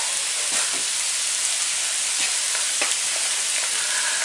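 Thinly sliced carrots sizzle in a hot pan, a steady, dense frying hiss throughout with a few faint crackles and stirring scrapes, close by and with no talk.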